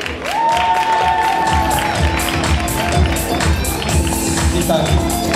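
Audience applause at a Valentine's Day prize-giving event, a dense continuous wash of clapping and crowd noise that stays loud and steady throughout, mixed with music and voices underneath.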